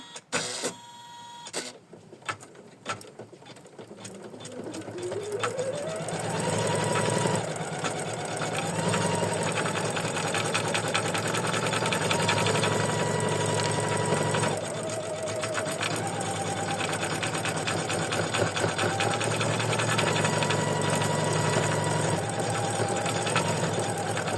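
An embroidery machine stitches an in-the-hoop lacy lavender ornament design, running at a loud, steady mechanical whir with rapid needle chatter and a slight shift in pitch partway through after starting up from quiet handling.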